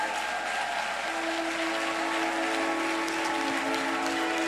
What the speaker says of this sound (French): L'Assemblée se lève et acclame très fort le Seigneur